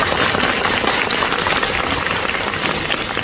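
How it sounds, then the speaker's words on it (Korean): Big audience applause at a Netflix D.P Season 2 live talk with fans in a CGV Yeongdeungpo cinema, loud dense clapping from a large crowd, continuous throughout and close. "큰 박수 부탁드립니다."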